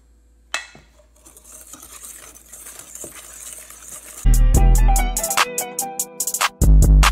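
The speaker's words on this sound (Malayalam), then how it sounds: "ഇതിലോട്ട് ഈ മൈദപ്പൊടി കുറേശ്ശെ കുറേശ്ശെ ഇട്ട് ഇളക്കണം." Maida flour stirred by hand into a batter mixture for vettu cake dough, with loud clinking and scraping of a spoon against a bowl in quick bursts after a quieter start.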